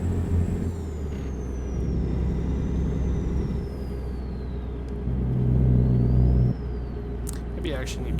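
Peterbilt 389 truck engine in American Truck Simulator, a steady low diesel rumble heard from the cab, swelling briefly louder midway, with a short air-brake hiss near the end and a voice talking over it.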